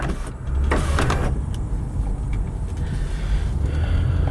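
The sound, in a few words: power moonroof opening in 1998 Honda Accord EX V6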